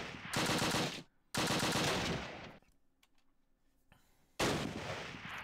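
A machine gun fires in the Close Combat wargame during the battles west of Arnhem, as long, loud, continuous automatic bursts separated by short pauses, close and dominant with no talk over it.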